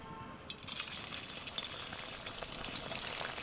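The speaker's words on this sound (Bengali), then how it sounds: "এবার একটা একটা করে মিষ্টি দিয়ে ভেজে নেব।" Semolina sweets dropped one at a time into hot oil in a wok bubble and sizzle quietly, a soft, continuous frying crackle with small pops, heard alone without talk.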